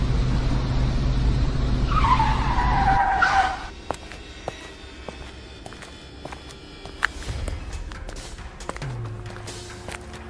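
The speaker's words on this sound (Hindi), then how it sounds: "फिर अचानक ट्रक रुक जाता है। ब्रेक की आवाज जंगल में गूंजती है।" A truck brakes to a halt on a forest road, a loud skidding screech with engine rumble for about three seconds before cutting off, followed by quieter scattered clicks and low ambient noise.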